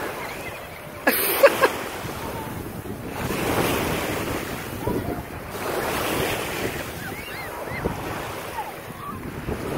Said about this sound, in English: Beautiful day out here at the beach